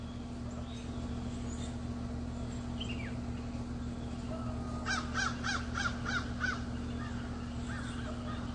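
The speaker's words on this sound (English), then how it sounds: "Crows flying over." Crows cawing as they fly over at sunrise, a short run of five or six rhythmic caws from mid-distance over a steady low hum and outdoor background, with a fainter call earlier.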